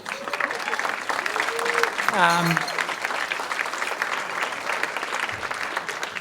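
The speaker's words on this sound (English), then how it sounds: "And a round of applause for the great work they do." Audience applause fills an awards dinner for the Edison Chamber of Commerce, with steady clapping throughout and a voice talking over it briefly partway through.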